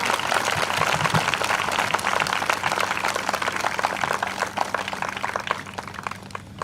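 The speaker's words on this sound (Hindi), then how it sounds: "जोरदार तालियों के साथ प्रभु को" Loud, dense applause fills a church service as a congregation claps for the Lord, a steady wash of hand claps lasting throughout and fading slightly at the end.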